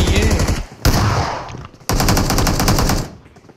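Gunfire from the BGMI battle royale mobile game comes in two loud, close bursts of rapid automatic shots separated by a short gap, with no speech over them.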